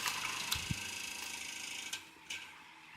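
An electric fan with loose grill screws runs with a steady buzzing rattle and occasional sharper knocks and clicks, close but fairly quiet.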